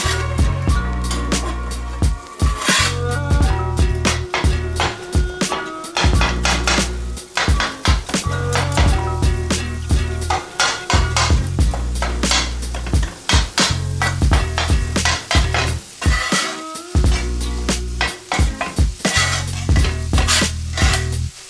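Rapid metal spatulas scrape and clack on a hot griddle as beef and onions sizzle steadily underneath for a chopped cheese sandwich, the chopping strokes quick and uneven, close up.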